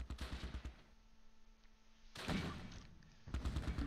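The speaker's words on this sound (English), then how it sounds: "Mortars going out to the east." Mortar rounds firing in the Arnhem wartime battle game Close Combat Last Stand, with heavy thumps and bursts at the start, a deep boom a little past midway, and another burst at the end, separated by quieter stretches.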